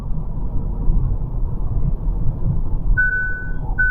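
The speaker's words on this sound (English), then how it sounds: "Now it's constantly dinging." A driver-assist warning chime in a Hyundai Santa Fe or Santa Cruz dings twice in short tones over a steady engine and road rumble inside the cabin.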